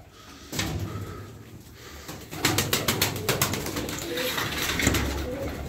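Pigeons coo in a loft among a group of twelve birds, soft repeated calls up close, with some flapping and clattering bursts in between.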